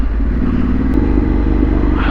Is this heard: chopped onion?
no